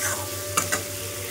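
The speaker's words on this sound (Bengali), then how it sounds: "এখন পিষে রাখা আদা রসুন আর সঙ্গে শুকনো লঙ্কা, তার সঙ্গে হলুদ গুঁড়ো, সমস্ত কিছু মশলা দিয়ে সুন্দরভাবে মশলাটাকে কষিয়ে নেব" Ginger-garlic paste, dry chilli and turmeric masala sautéing in a pan, a steady low sizzle with two brief sharp spatula scrapes near the middle, no voices.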